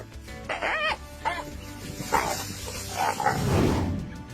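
A dog barks in a few sharp bursts during an encounter with an iguana, close and fairly loud, mixed with other scuffling animal noises.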